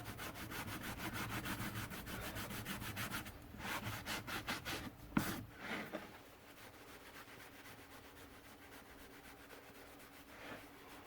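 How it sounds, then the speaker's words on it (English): Rag wiping stain across a wooden puzzle in quick, rhythmic rubbing strokes, steady for about six seconds with one sharp knock, then fading to quieter, sparse rubbing. "And just keep wiping until you like what you see."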